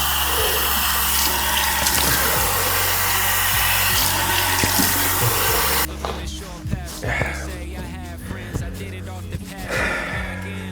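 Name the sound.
running tap water, splashing cold water on face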